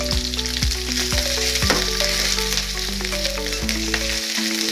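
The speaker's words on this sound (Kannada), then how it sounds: "ಚೆನ್ನಾಗಿ ಫ್ರೈ ಮಾಡೋಣ. ಶುಂಠಿದ ಹಸಿ ಸ್ಮೆಲ್ ಎಲ್ಲ ಹೋಗೋವರೆಗೂ." Ginger paste, green chillies and curry leaves fry in a pan for hotel-style kara pongal, giving a loud, steady sizzle broken by a few sharp clicks of stirring.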